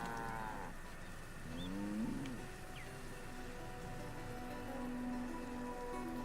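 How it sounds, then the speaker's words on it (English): Several cows moo in the video game Curse of the Pharaoh, low drawn-out calls overlapping at moderate distance, over a steady background patter like light rain. "Hey, cows."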